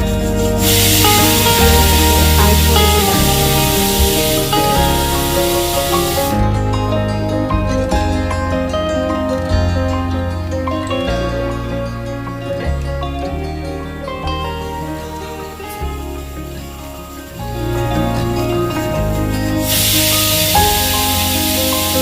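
A pressure cooker cooking pumpkin curry with raisins lets out loud, sustained steam whistles, a long hiss at the start and another building near the end, with a quieter stretch of kitchen sounds between them.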